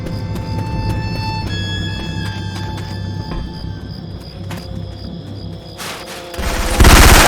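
Rapid automatic gunfire from Syphon Filter weapon sound effects in a Left 4 Dead 2 match, sustained dense bursts with tonal ringing, then a louder closer volley near the end.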